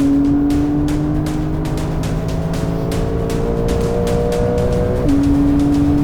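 A Porsche 911 Carrera S of the 992 generation accelerates hard at full throttle onto the finish straight. Its loud, close engine note climbs steadily, then drops sharply at an upshift and begins rising again.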